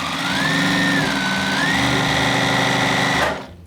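A sewing machine runs steadily for about three seconds, stitching fabric for a scrappy homemade dog bed, its motor whirring at a constant close, loud pace before stopping abruptly.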